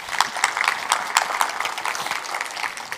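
An audience gives a round of applause at a live stage event during a fitness session, a steady, fairly close wash of many hands clapping that holds for the whole stretch, no talking over it.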